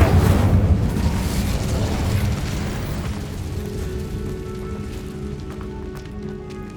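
Casting the Incendio fire spell in the video game Hogwarts Legacy on PS5 produces a dense roaring whoosh that begins loud, then slowly fades into a steady crackling rush beneath a low hum.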